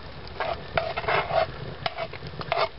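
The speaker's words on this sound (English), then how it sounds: "We're going to add a little brown sugar to it. I'll sweeten it up just a bit. Okay, just a little more. Stir that around a little bit." A spoon stirring brown sugar into a pot of smoked rib tip and chicken chili, with soft scraping strokes and thick wet stirring over a faint simmering sizzle, close and steady.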